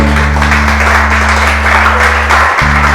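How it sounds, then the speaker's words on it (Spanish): A congregation at an evangelical church service claps in praise, a loud, steady mass of hands over a constant low electrical hum that briefly drops out near the end, with no speech on top. "Da un aplauso al Señor."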